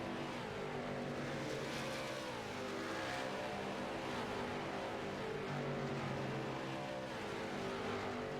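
A pack of race cars runs nose to tail in a sim racing game, their engines layered into a constant buzzing roar with slight rises and falls in pitch, unbroken and without talk.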